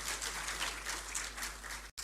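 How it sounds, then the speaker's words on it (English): Applause from guests at a formal courtesy call by the Asantehene on the president, a soft, distant wash of clapping that continues steadily before cutting off abruptly near the end. "Shall we please give His Majesty a round of applause, please?"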